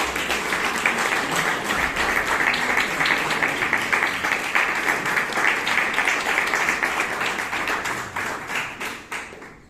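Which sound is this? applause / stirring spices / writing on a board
applause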